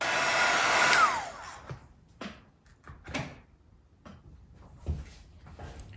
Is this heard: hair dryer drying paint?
yes